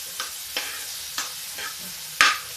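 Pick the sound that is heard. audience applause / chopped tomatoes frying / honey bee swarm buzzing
chopped tomatoes frying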